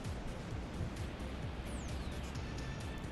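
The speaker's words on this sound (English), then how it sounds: "The sound of the waves just totally masks the sound of the drone." Ocean waves roll in at Cronulla beach, a steady broadband wash of surf close by, with a faint thin whine sweeping across partway through.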